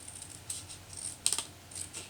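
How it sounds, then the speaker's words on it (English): A few quick snips of scissors through paper card stock, crisp and close, in short bursts over a quiet background. "I think I'm going to trim it along here. I'm just going to use scissors."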